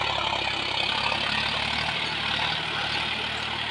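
A John Deere 5105 tractor, a 40 HP machine, pulls a cultivator through a field at about 1600 RPM in second gear high. Its engine gives a steady, loud, continuous drone that holds level throughout, with no talk over it.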